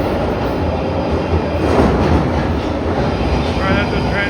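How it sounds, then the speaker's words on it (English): A London Underground train arriving at the platform, a loud continuous rumble and rush of wheels and air with faint high squeals near the end. "Right, there's the train"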